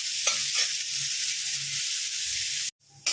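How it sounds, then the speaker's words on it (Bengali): Onions fry in oil in a kadai, giving a steady close sizzle with scraping stirs, before a sudden brief drop to silence near the end. "পেঁয়াজটাকে আমি একটু ভেজে নিচ্ছি কড়াতে, তেলের মধ্যে একটু ভালো করে পেঁয়াজটাকে ভেজে নিচ্ছি"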